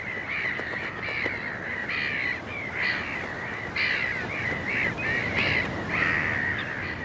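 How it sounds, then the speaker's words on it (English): Gulls call repeatedly in harsh, nasal cries over a constant wash of background noise, several birds overlapping at moderate distance. "Gulls foraging among the debris may unwittingly pick them up."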